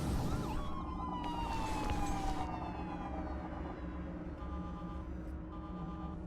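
Wailing sirens in the space game X Rebirth, several rising and falling tones under a dense engine rumble, with brief steady beeping near the end, all at a moderate level in the game mix.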